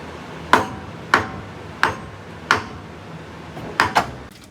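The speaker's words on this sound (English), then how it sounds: "Sometimes you got to get your balancer started a little bit before you can drive it home. So I just hit it with a sledgehammer." Sledgehammer blows striking the harmonic balancer on an OBS Ford dually truck, six sharp metallic impacts at irregular intervals, fairly close and loud, with the last two landing in quick succession.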